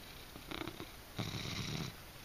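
A small cat purrs steadily close by, a soft rumbling drone in two breathy stretches, with no talking over it.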